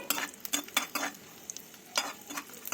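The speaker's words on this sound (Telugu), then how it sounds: "ముందుగా జీడిపప్పు పలుకులను అయితే వేసాను కిస్మిస్ని కూడా బాగా వేయించుకోవాలి" Cashew pieces and raisins frying in ghee, a soft sizzle broken by repeated scraping clicks of a spoon stirring in the pan, fairly faint and close.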